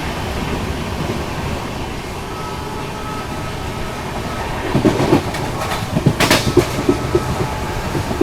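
A Humsafar Express train runs past Mandapam railway station, heard from on board as a loud continuous rumble and roar with rhythmic clickety-clack wheel beats growing denser in the second half.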